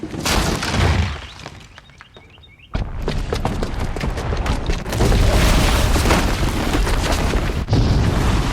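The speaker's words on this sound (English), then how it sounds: "the booby trap on the bomb downstairs is gonna get set off" A booby-trapped bomb goes off in Horizon Zero Dawn, a sudden heavy boom and shattering burst that gives way to a long, loud rumbling roar of debris and crumbling. The blast sits up close and fills the scene.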